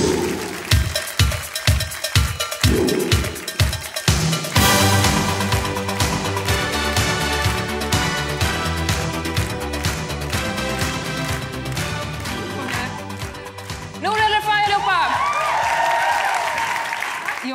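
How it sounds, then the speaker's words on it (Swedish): A studio audience at a Swedish comedy talk show breaks into loud, sustained applause welcoming comedian and actress Nour El-Refai as a guest, the clapping dense and continuous with a brief burst of livelier cheering near the end. "Ge en varm applåd till Noor El Refai"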